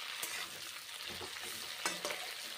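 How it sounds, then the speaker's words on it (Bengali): Cauliflower florets fry in hot oil and are stirred, giving a steady, faint sizzle with occasional scraping and clinks of a utensil against the pan. "ফুলকপিগুলো ভেজে নিচ্ছি, নেড়ে চেড়ে ভেজে নিচ্ছি ফুলকপিগুলোকে।"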